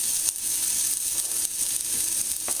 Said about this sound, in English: The onions and jalapenos are going in here to be sauteed for just a few minutes until they begin to soften up